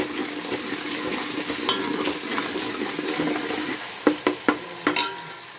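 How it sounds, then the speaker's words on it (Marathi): Masala paste of ground spice, prepared for a crab (chimbori) curry, sautéing steadily in a pan, a continuous close sizzle with soft stirring scrapes and a few sharp clinks of a spoon against the pan near the end. "मसाला छान परतून घेऊया"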